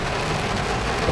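Heavy rain pours onto a flooded street in Pekanbaru, Riau, a dense, steady hiss of drops hitting water that fills the whole moment without any voices.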